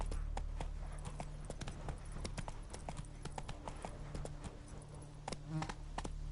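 Horse hooves in The Witcher 3 video game, steady rapid clip-clop of a trotting mount over a low constant drone, with faint insect-like buzzing, close and clear.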